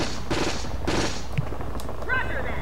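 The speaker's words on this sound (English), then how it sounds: "Enemy fire!" Rapid bursts of gunfire in the tactical shooter Conflict: Global Terror, with short volleys at close range mixed with game voices and radio chatter.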